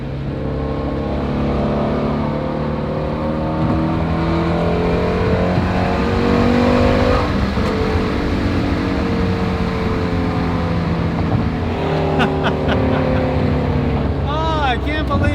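Shelby GT350R with its 5.2 liter Voodoo engine revving loudly from inside the car, a sustained roaring drone that rises and falls in pitch with surges of acceleration and a strong steady rumble throughout.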